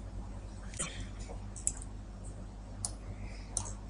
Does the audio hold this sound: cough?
no